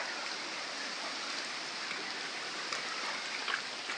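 Steady rain falls during a typhoon near a swollen river in Nasugbu, a dense continuous hiss with occasional louder drops and no voices.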